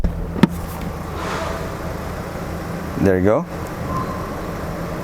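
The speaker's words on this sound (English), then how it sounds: "Sitting inside the car with the engine idling" A Mazda 6 diesel sedan idles with a steady low rumble heard from inside the car, with a sharp click early on and a short spoken phrase near the middle.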